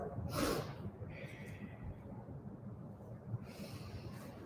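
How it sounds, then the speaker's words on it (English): A forceful nasal blow, likely into a tissue, comes at a yoga class before alternate nostril breathing, with a shorter second blow and a later snort, all close over faint room noise. "Blow your nose."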